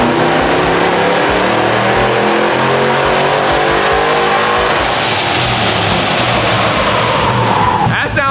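Supercharged pickup truck engine revving hard on a dyno, a loud continuous climbing roar that holds near and steady before a sudden rise in pitch and intensity near the end, with no talk over it.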